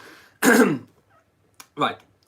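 One harsh, phlegmy cough close to the mic from a man with a lingering chesty cough, followed after a short pause by a second, shorter cough-like clearing of the throat.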